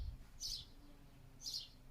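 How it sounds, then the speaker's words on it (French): Two short, high bird chirps ring out about a second apart against a faint, quiet outdoor background. "Il fait bon et on entend les oiseaux."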